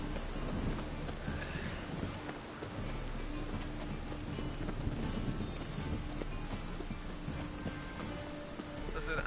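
Steady rain with occasional low thunder rumbles in a city in The Witcher 3, with horse hooves clip-clopping through the downpour; a voice talks over the continuous storm.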